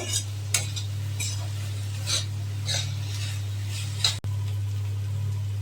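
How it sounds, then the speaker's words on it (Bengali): Boiled bitter gourd stirred and fried in a pan, a low steady sizzle with a hum underneath and several sharp spatula scrapes against the pan at intervals. "এবার নাড়াচাড়া করে ভেজে নেব"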